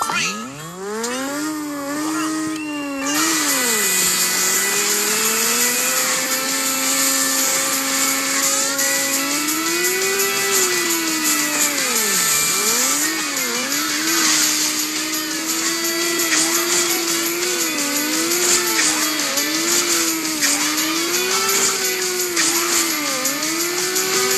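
Bolt vehicle in the mobile game Hill Climb Racing 2, a continuous buzzing game engine tone whose pitch rises and dips constantly with throttle changes over about twenty seconds, loud and unbroken.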